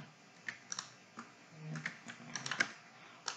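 Keys clack on a computer keyboard while a structural beam calculation is entered, a quiet close run of irregular taps and clicks ending in a few quicker strokes, one presumably the enter key, with no talking.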